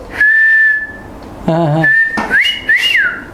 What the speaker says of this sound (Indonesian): ini saya suara siul gigi tahu